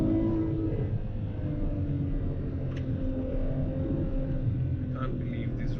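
A 731 HP V12 Ferrari driving on mountain roads in the UAE, its engine a steady, continuous rumble and drone throughout, loud and close, with no clear rev spikes.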